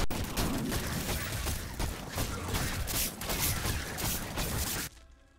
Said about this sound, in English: Do they go boom because of my explosion thing?